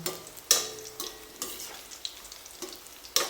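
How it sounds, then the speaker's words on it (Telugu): Bread pieces fry in oil in a pan for bread halwa, giving a soft steady sizzle punctuated by regular scraping and stirring strokes, close and alone. "బ్రెడ్ ఊకినే ఫ్రై అవుతుందండి, ఎందుకంటే ఆయిల్ వేసాం కదా"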